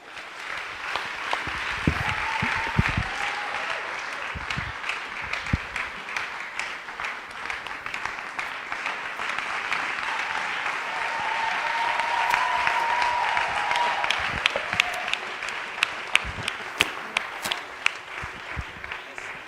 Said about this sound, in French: On va acclamer Dieu un peu.